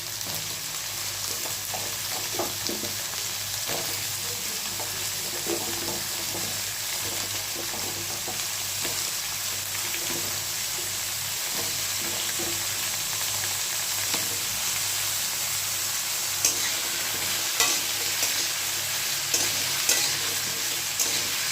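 Bottle gourd, papaya and bitter gourd for shukto fry in hot oil with a dense, constant sizzle, close and even, with occasional soft stirring scrapes and no voices.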